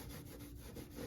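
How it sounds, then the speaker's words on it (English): A cloth rubs steadily back and forth across a stainless steel gas stovetop, a faint continuous scrubbing with soft rhythmic strokes and no voices. "I am gonna wipe this down"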